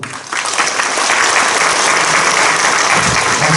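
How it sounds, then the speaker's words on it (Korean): A church assembly audience at a denominational candidates' policy debate bursts into dense, loud applause that swells quickly and holds steady. "뜨거운 박수 한 번 더 해주시기를 부탁드리겠습니다"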